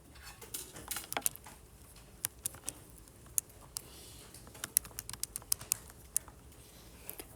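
Buttons on a calculator are tapped in a steady series of sharp, close clicks, with a few quick clusters and pauses in between, with no voice over them.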